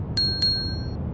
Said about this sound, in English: She stood at the front desk and rang the service bell.